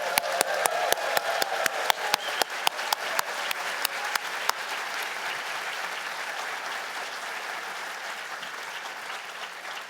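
Audience applause at a PhD hooding ceremony, starting with a few sharp, distinct claps and quickly swelling into dense, sustained clapping that carries on steadily throughout, with no voices over it.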